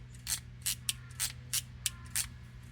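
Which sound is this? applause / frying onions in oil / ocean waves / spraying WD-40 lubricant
spraying WD-40 lubricant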